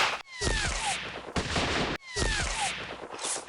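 Two bursts of gunfire from a World War II Pacific strategy game set in the Philippines, each a sharp crack followed by a rolling rattle and descending whistles, repeated about two seconds apart.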